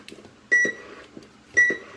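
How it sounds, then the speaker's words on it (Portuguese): Two short electronic beeps about a second apart from a Cobra 19DX IV CB radio, each with a soft click or thump, sounding close and distinct against near silence. "Olha o bip"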